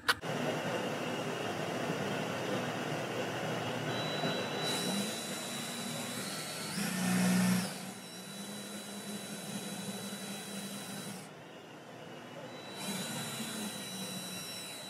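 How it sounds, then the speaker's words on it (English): A power drill runs to bore a hole in a steel ammo-can toolbox on a 2017 Ural cT motorcycle, using a DeWalt 17/64 inch pilot point bit. It whines steadily for about fifteen seconds, shifting pitch and dropping out briefly partway through. "I'm ready to drill a hole."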